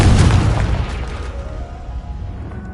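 A loud booming blast from the Confringo fire spell in a Harry Potter video game, a sharp explosive burst that decays into a rumbling tail.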